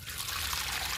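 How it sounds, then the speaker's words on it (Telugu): Liquid poured steadily onto a garden plant in summer, a continuous close trickle and splash with no pauses and no voices. "లిక్విడ్ ఇస్తున్నాను"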